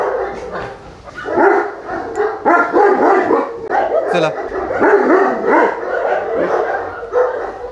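Cane Corso puppy barks and yips come through amid people talking nearby, with excited vocalizing scattered throughout.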